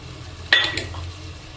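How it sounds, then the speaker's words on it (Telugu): A spoon gives a brief, gentle scrape and a couple of soft clinks while stirring paneer with biryani masala in a pan, close by over a low background hum. "నెమ్మదిగా మిక్స్ చేసుకోవాలండి లేకపోతే ఇవి పన్నీరు కదా విరిగిపోతాయి"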